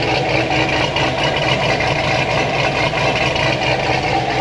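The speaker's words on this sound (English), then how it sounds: "I'm gonna let this settle down at 850 RPM idle." A Corvette's engine idles steadily after a heads and cam install, a continuous, even mid-pitched rumble heard up close with no talking over it.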